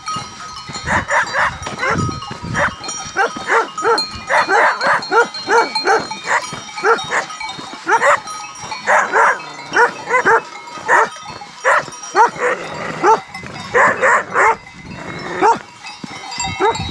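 One or more dogs bark repeatedly and loudly nearby on a mountain hiking trail, in irregular bursts with a few whimpering yelps between.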